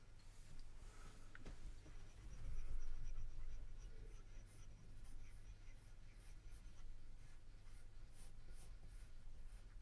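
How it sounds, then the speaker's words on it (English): Pencil shading on paper, with the side of the lead and with cross-hatched lines, makes soft continuous scratchy strokes, faint and close over a low steady hum. "You can use the side of your pencil for shading, or you can pile on a lot of lines for shading."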